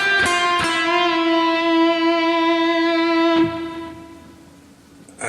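Electric guitar melody with string bends, a few picked notes ringing into a long sustained bent tone that fades near the end, played alone and up close.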